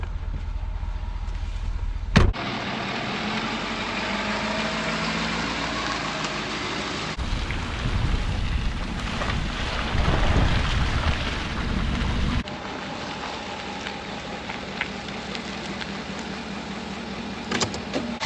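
A vehicle pulling into a steer pasture, its engine rumbling steadily close by from inside the cab, with a sharp click early on and a rougher, louder stretch in the middle before settling back.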